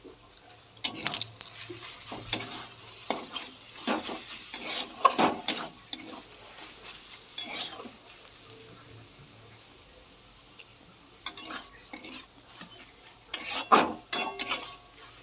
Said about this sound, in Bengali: এবারে নুন দিয়ে দেব, ভালো করে মেশাবো নুন দিয়ে।